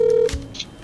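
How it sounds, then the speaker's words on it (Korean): A loud, close telephone dialing tone holds steady, then cuts off abruptly, and a brief faint beep follows as a phone call connects. "전화 통화 연결을 하도록 하겠습니다"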